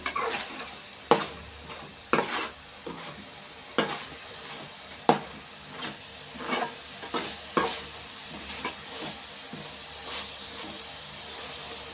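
Onions fry in a pan for a fish pulusu, with a constant sizzle broken by about a dozen sharp scrapes as a spatula stirs them at an uneven pace.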